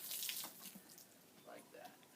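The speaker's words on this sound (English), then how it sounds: "Finish up with rinsing the wheels," Water runs over bicycle wheels during a rinse, a faint, steady splashing hiss with a low voice speaking briefly under it.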